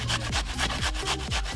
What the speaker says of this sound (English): I'm gonna grate the ginger.